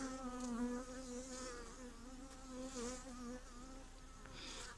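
Honeybees emerging from brood cells on a comb give off a faint, steady buzzing hum with rising and falling drones, close by and without talking.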